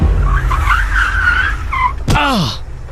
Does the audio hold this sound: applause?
no